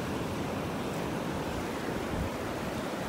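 Ocean waves wash steadily onto a beach in North Naples, Florida, a continuous broadband surf roar at moderate level with no voices.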